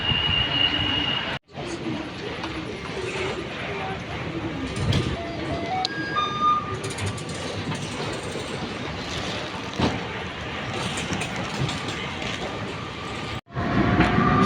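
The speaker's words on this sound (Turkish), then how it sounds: "Şimdi de metro zamanı." An Istanbul metro train rumbles steadily along the track, with a broad continuous roar, faint tonal whines and occasional clatter, loud and close throughout.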